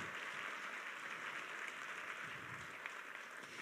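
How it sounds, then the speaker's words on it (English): At a high school holiday arts performance, the audience gives steady, fairly soft applause, an even wash of many hands that carries on without a clear break. "let's give that applause"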